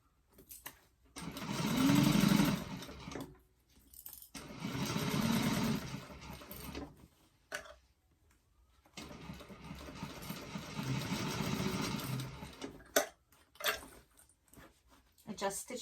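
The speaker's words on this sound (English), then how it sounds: "So make sure your stitch length is down again and start sewing." A sewing machine stitches fabric in three separate runs of whirring, the last one longest, with short pauses between them where quiet talking may be heard.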